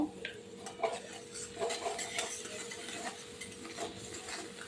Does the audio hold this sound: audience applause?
no